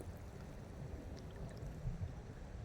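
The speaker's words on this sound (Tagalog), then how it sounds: "kaya medyo lumalakas ang alon." Faint sea waves wash at a beach resort as the tide rises, a low, soft, continuous rumble and churn with gentle swells and no clear voices.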